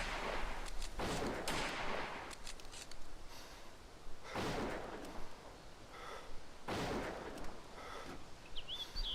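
Gunfire in ARMA 2 DayZ Overpoch, with three or four loud bursts spaced a couple of seconds apart over steady background noise and no talk.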